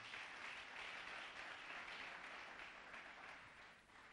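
A church congregation applauds the Lord, a sustained wash of many hands clapping together, steady and dense, fading slightly toward the end, heard faintly from a distance.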